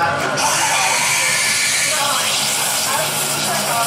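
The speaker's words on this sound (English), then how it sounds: "this espresso machine is going to steam the milk and make an espresso" Espresso machine steam wand steaming milk, a loud steady hiss that roars continuously at close range throughout, with no break.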